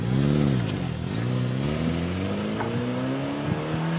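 A car engine revs in place as the gas is pressed, its pitch climbing steadily over several seconds, loud and close with no voices.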